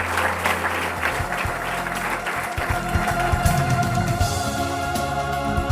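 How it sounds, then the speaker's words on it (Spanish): An audience at a political candidacy presentation in Binéfar, Aragón applauds, with sustained, dense clapping continuing loudly throughout. "Un aplauso a Bárbara."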